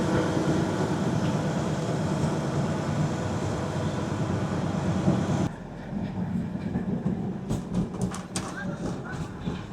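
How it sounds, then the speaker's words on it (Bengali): Himalayan toy train standing at a jungle station, a steady loud idling rumble that cuts off abruptly partway, leaving quieter ambience with scattered bird calls and light clicks. "পিছনে আমাদের ট্রেন দাঁড়িয়ে আছে, এখানে কিছুক্ষণ ট্রেন দাঁড়াবে"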